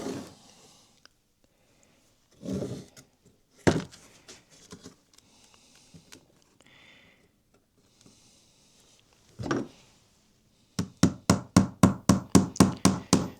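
Small nails being hammered into a wooden National beehive frame: a few scattered single knocks, then a fast, even run of about a dozen sharp taps growing louder, close and dry with quiet handling between.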